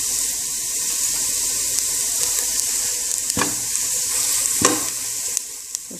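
Garlic and onion frying in a pan with a sprinkle of turmeric, a steady close hiss of sizzling with a few sharp stirring scrapes and clicks breaking through near the end.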